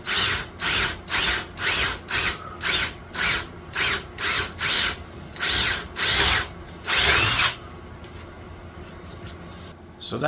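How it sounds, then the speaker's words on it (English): A power drill bores into a 2x4 guided by a pocket hole jig, with about a dozen short loud whirring bursts in a rhythmic series, then a few longer runs, before the motor stops and it falls quiet. "I drill straight into the 2x4"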